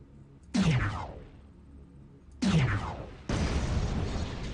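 Weapon shots slam into a mech's torso in MechWarrior Online. Each is a loud, booming impact with a falling, whooshing tail, repeated in three hits a second or two apart.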